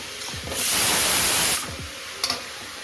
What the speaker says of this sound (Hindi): गाजर पिसी है और घी में गाजर डाली है भूनने के लिए